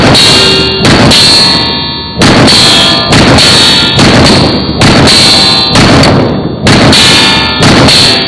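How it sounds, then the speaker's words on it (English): A Prodigy pistol emptied in a rapid-fire magazine dump: about a dozen loud, close shots in quick succession, each with a metallic ring, with slightly uneven spacing between them. "First thing off, let's just do a mag dump here."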